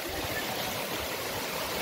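River water rushing steadily over rocks at Río Dos Caños in Hueyapan de Ocampo, Mexico, a continuous broad wash of flowing water, close and even throughout with no talk.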